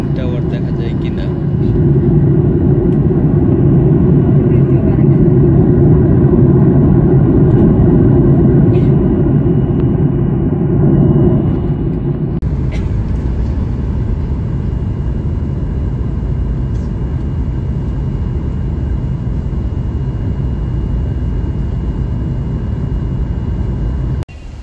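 An airliner descends toward landing near Kuala Lumpur, filling the cabin with a loud, steady low roar that drops to a softer, even rumble about halfway through.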